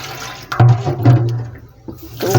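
Tap water runs as sweet potatoes are rinsed in a kitchen sink before steaming, a steady splashing wash with brief breaks where the hands move the tubers.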